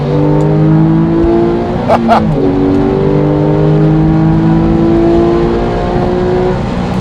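A Porsche 911 GT3 RS 4.0 engine pulls hard while driving on the road, loud and close inside the car, with a quick gear change and rising revs.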